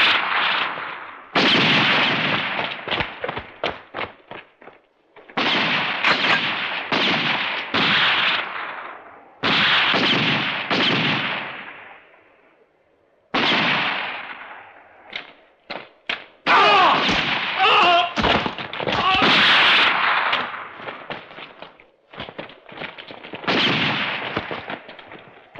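Gunfire in a movie shootout: loud, close bursts of rapid shots broken by short pauses, with a dense, crackling volley near the end and no voices.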